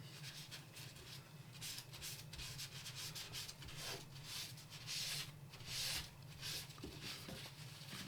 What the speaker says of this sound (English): Get rid of some of that excess grease down here.